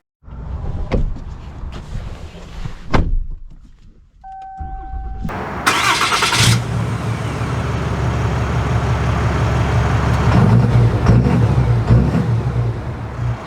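A 2024 Ram 3500 Limited pickup with a Cummins diesel: a door thuds, then the engine cranks and catches into a loud, steady diesel rumble that builds slightly as it runs on, close up and with no talk.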